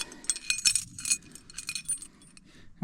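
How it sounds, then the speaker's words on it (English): A set of old keys jangles and clinks in short metallic bursts, close and fairly quiet, in the setting of an abandoned 1966 Ford F-250 factory 4x4 truck being checked over. "Got the old trusty keys."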